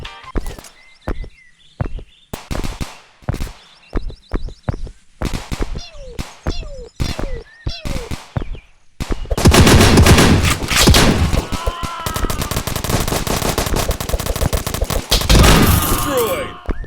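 Shotgun blasts from a video game glitch: a run of sharp, separate shots, then a dense, loud, continuous barrage of rapid fire and crashing noise, close and overwhelming.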